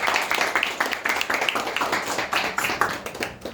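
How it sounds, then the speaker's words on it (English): An audience at a Bronx political event breaks into applause, a dense, continuous patter of many clapping hands at moderate loudness. "Give a round of applause."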